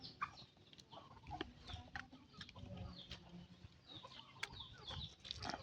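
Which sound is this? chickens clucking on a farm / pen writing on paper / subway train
chickens clucking on a farm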